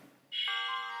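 A short electronic beeping alert from The Legend of Zelda: Breath of the Wild begins after a brief quiet moment and holds as a bright, steady, sustained tone.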